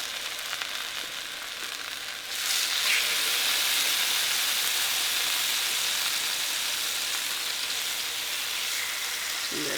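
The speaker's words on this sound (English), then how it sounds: "I'm going to place these pieces of tuna in the pan, and we're going to get a really big sizzle." Pieces of marinated tuna hit a hot pan and burst into a loud, steady sizzle that jumps up suddenly a couple of seconds in and holds strong, close and continuous.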